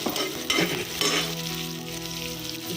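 Pea curry frying in a pan while being stirred, a dense steady sizzle with scraping stirring strokes and faint clinks of the utensil, heard close.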